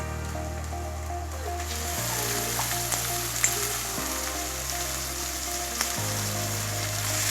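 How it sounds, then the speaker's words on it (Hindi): Minced keema sizzles steadily in a pan with ginger and garlic being fried for biryani. A loud, continuous crackling fry runs throughout, with faint stirring knocks and no talk. "ये मैंने कीमा ऐड कर दिया। अब अच्छे से हम इसकी भुनाई करेंगे"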